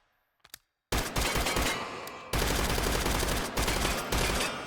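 Modded MCW rifle in H3VR, voiced with original Call of Duty sounds, firing several rapid bursts of loud automatic gunfire after a couple of quiet clicks.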